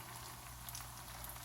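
Lumpia frying in hot oil in a pan, a steady close crackling and bubbling hiss that runs evenly with no voices.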